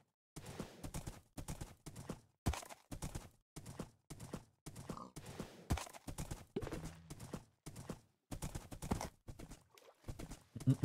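Rapid clip-clop of horse hooves in the video game Hoplite, crisp galloping bursts in an irregular rhythm with brief pauses, loud and close, with no talking over them.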